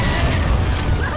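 Frag grenade explosion in the Halo video game: a dense, loud burst of low rumbling boom and crashing debris lasting about a second, filling the whole range with no voice over it.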